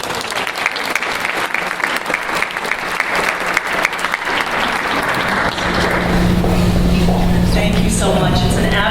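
Audience applause welcomes Tracey Jones to the podium at a Leadership Cumberland honoring event: dense, continuous clapping from a crowd that swells and grows louder toward the end.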